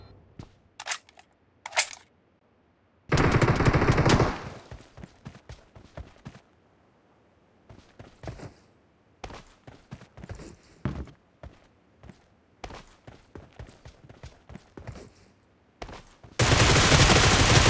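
Gunfire in the BGMI (PUBG) mobile team deathmatch, with sharp bursts of automatic shots and single cracks, two long loud volleys, and a scatter of rapid clicks and footsteps between them.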